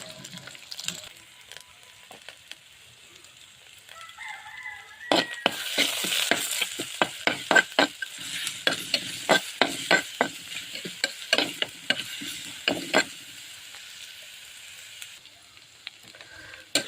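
Spices such as cardamom, fenugreek, cumin, green chilli, ginger and garlic frying in hot coconut oil in a pan for a sardine curry, a quiet start giving way to a steady, crackling sizzle with rapid popping bursts.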